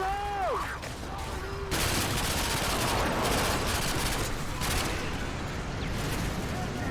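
Gunfire in the video game Call of Duty Modern Warfare 2: a dense, loud stretch of rapid automatic shots and bursts, with a short game sound and a voice near the start before the firing takes over.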